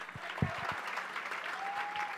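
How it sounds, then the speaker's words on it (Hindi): Applause from an audience at a coaching centre's results celebration in Patna, a dense steady clapping that runs the whole moment at moderate loudness, with a faint voice briefly audible. "एक बार जोरदार ताली दे दीजिएगा भाई"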